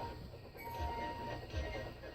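A model steam engine train runs along its tracks with a steady rolling rumble and faint rhythmic clatter, heard briefly at low volume.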